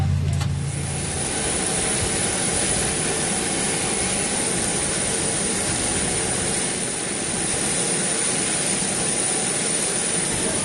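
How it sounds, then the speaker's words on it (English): Inside a passenger airliner landing on Iwo Jima, a loud, steady roar of engines and rushing air fills the cabin as the plane rolls and taxis to a stop. "After the aircraft comes to a complete stop, then you can unfasten your seatbelts"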